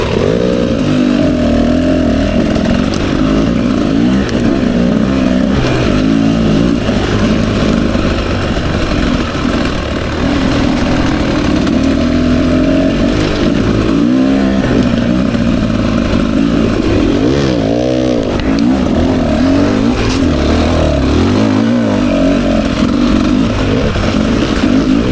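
A 2024 Beta 300 RR Race Edition dirt bike works along a single-track trail, its engine loud and near, constantly revving up and backing off in choppy bursts as the rider picks through the terrain.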